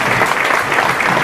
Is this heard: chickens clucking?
no